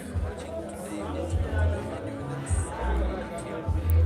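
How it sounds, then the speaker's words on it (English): Steady murmur of a crowd of around 150 to 200 spectators at a pool grand final venue, a close babble of overlapping voices with low thumps underneath. "We are having a crowd of roughly between 150 to 200 people watching"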